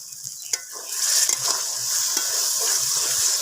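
Hissing, bubbling sizzle of spice paste frying in a pan for a rohu (katla) fish dish, intensifying after a brief clack, with soft stirring scrapes throughout.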